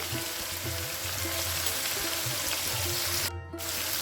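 Shredded cabbage and prawns sautéing in a hot pan with oil give off a steady, close sizzle and crackle with a brief gap near the end, with no talking over it.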